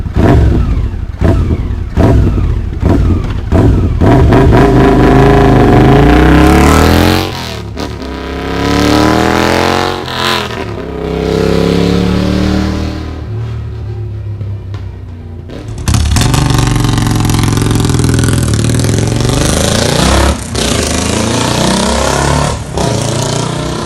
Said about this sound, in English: The exhaust sound on each one of these motorcycles is obviously different.